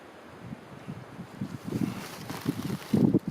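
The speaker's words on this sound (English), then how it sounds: "It's peaceful and just a little breezy." A light breeze blowing outdoors in a quiet green spot, soft gusts buffeting the microphone in uneven puffs that build slightly toward the end, with no voices.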